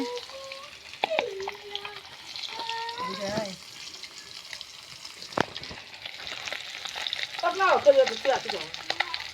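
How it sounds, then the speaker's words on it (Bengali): Pieces of fish fry in hot oil with a steady crackling sizzle, joined by bursts of stirring and scraping and a few louder clatters near the end, while people talk in the background. "দেখুন বন্ধুরা মাছ ভাজা হয়ে গেছে"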